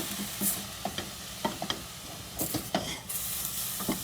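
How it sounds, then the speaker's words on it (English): Steamed, fork-tender broccoli being stirred around in a pan, giving a quiet scatter of scraping and tapping utensil clicks over a soft sizzling hiss, with irregular bursts spread across the four seconds. "In goes our broccoli. Fork tender and steamed. We're going to stir it around."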